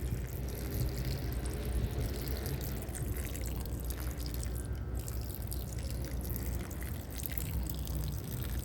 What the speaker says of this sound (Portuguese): Até a água escorrer, pessoal.